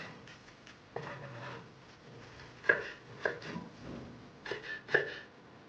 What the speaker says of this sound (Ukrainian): Ще переріжу так дрібненько.